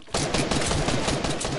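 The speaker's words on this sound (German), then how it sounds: "Ich werde sofort angeschossen." Rapid gunfire in the Fortnite video game as the player gets shot, a dense, loud burst of automatic shots running continuously for over a second without talk.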